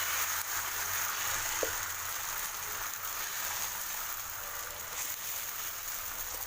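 Cabbage dosa batter sizzles steadily on a hot pan, a continuous close hiss with a faint crackle and one brief click near the start, no voices over it.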